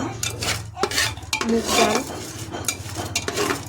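Mung and pea dal frying in ghee, heard mostly as busy metal spoon scrapes and clinks against a pot with a faint sizzle underneath, close and fairly loud, no talk.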